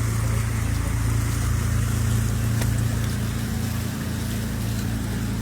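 A motorboat engine drones steadily and loudly up close during a boat ride on Khanpur Dam in Pakistan, with water churning underneath and no talk.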